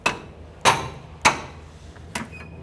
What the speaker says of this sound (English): if needed, use a rubber mallet on the end of your wrench